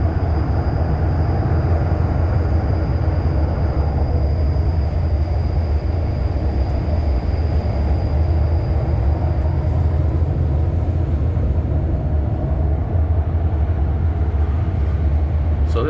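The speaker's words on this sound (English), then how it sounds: "So this rumbling that you're hearing right now is how it used to sound near Central Station." An REM light-rail train rumbles near Central Station, a loud, deep, continuous drone that holds steady from start to finish without any voices.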